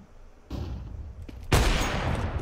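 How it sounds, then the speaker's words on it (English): A flashbang grenade going off in a video game: a muffled burst followed about a second later by a sharp, loud bang whose crackling roar fills the rest of the moment. "Flashbang."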